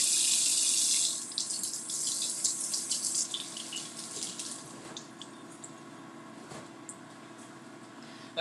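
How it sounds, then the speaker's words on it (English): Lettuce is rinsed under a running kitchen tap, a loud hissing gush of water at first that drops to a softer, uneven splashing and trickling as the leaves are moved, with no talking. "Let me rinse off my lettuce."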